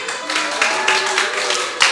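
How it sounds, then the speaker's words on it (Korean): A church congregation claps along during a sermon on missions to the nations, a dense run of overlapping hand claps that swells in loose bursts, close and steady throughout, with faint voices underneath. "이때 막 박수 치셔야 돼요."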